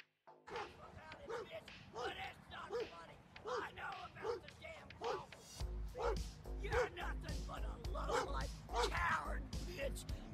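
A dog barks and yips repeatedly during a heated argument with a neighbor. The barks come in a steady rhythm, and a loud hum and background noise join in partway through.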